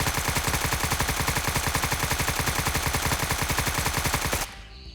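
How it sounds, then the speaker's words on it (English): An AK-74N rifle fires full auto from a 60-round magazine in one long, loud, rapid unbroken burst lasting over four seconds, then stops abruptly, leaving a faint tail. "now we try the AK-74N with the same ammunition, also a 60 round mag in full auto"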